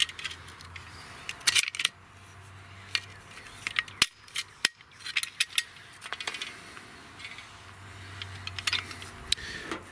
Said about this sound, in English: Now we put the wing nut back on.